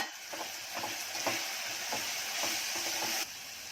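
Tomato pieces, chili, washed dried kolim shrimp and spices fry in a pan for a Konkani drumstick curry, with a continuous close sizzle and repeated stirring scrapes, no voices.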